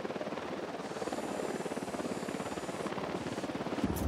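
A helicopter in the game Ghost Recon Wildlands sends out a steady, rapid rotor chop with a droning whine, holding an even level throughout and with no talking.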